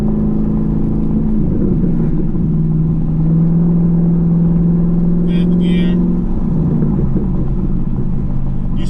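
A Chevrolet Camaro with an MRT off-road H-pipe exhaust cruises in 4th gear at about 50 mph and 3,000 rpm, giving a steady, loud interior engine hum and rumble with a slight shift in tone partway through.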